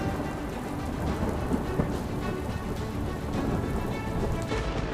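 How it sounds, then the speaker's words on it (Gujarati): Heavy monsoon rain falls over Tapi in South Gujarat, a loud, continuous roar of water drumming on surfaces with no let-up. "તાપીમાં ભારે વરસાદનો તરખાટ"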